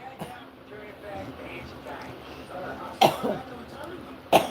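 A woman coughs in a couple of harsh bursts near the end, with muffled background noise and people talking around her.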